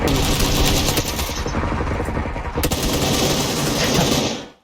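Sustained rapid automatic gunfire in PUBG Lite team deathmatch, loud and continuous bursts for several seconds before cutting off abruptly.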